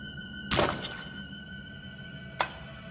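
In the Bendy video game, Boris lands blows on an enemy: a heavy thunk with a crashing edge, then a sharper, shorter hit about two seconds later, over a quiet tonal game backdrop.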